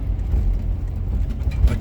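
A Toyota Prado drives along a muddy, flooded road with the roads washed out after a cyclone, giving a steady low rumble of engine and tyres throughout, moderately loud with some brief splashy bumps near the end.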